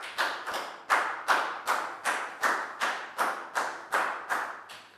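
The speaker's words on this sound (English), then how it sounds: "High five and a big round of applause for Dan, please, guys." Schoolchildren in a classroom clap together in about a dozen sharp, regular, unison claps, close and fairly loud, with no talking.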